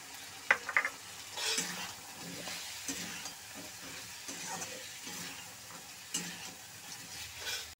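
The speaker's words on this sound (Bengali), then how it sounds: "এখনও কিন্তু আমি ভালো করে ভেজে নিচ্ছি কপিটা মশলার সাথে।" Cauliflower frying with spices in a pan while stirred with a spatula, a continuous sizzle broken by repeated scraping and clanking strokes, close and moderately loud with no talking.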